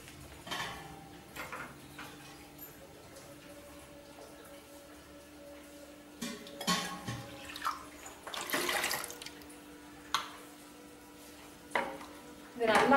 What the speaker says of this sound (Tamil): இப்போ இதில் 1 கப் தண்ணி ஊற்ற போகிறேன்.